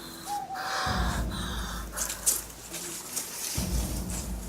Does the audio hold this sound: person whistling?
no